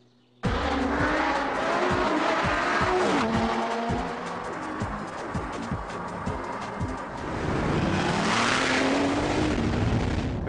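A Lamborghini Gallardo Superleggera on the move, its loud engine revving up and down through rapid gear changes, tyres squealing at times, and a surge of engine roar building again near the end.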